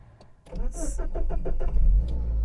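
A Daimler-badged Jaguar XJ40 saloon that has sat unused fires into life after a brief crank, then settles into a steady, loud close idle with a low rumble.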